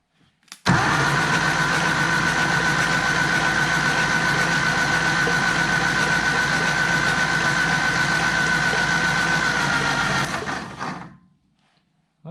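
An old Ford industrial engine cranks with its spark plugs removed, the starter spinning it in a steady, loud whir for about ten seconds before it winds down and stops.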